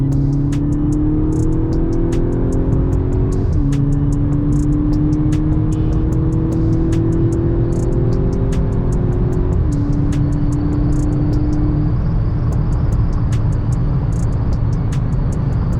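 A stock Volkswagen Golf 6 GTI drives along with a steady engine drone and harmonic tones that step up through gear changes, heard from inside the car under constant road and wind noise.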